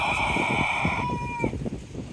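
A rooster crows once nearby, a loud drawn-out call that fades into soft clucking from other farmyard fowl.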